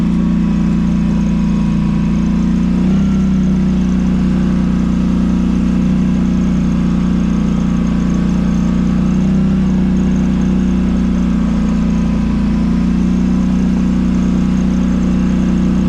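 A Polaris Sportsman 850 ATV engine runs steadily and loud at close range, a constant mid-pitched drone with a slight shift in tone near the start, and no voices.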